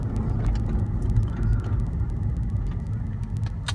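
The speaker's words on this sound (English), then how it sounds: "A torquey V8 gives you instant throttle response" A 2006 Mercedes-Benz S500 AMG V8 sport sedan cruises along a road with a steady, low, muffled engine and road rumble throughout, no one speaking.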